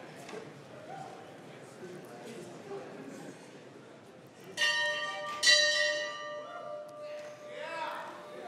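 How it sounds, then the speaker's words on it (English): The Monon Bell rings out inside a chapel with a few bright, resonant strikes whose tones linger and decay, standing out above low crowd murmur and talk. "please welcome the Monon Bell."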